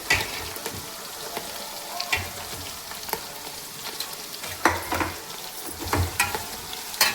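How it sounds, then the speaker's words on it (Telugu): Chopped onion pieces are stirred into a sizzling tempering for sambar, with a steady close frying crackle broken by irregular scrapes and knocks of a spoon against the pan. "ఉల్లిపాయ ముక్కలు కూడా కలిసేటట్టుగా కలిపేసుకుందాం"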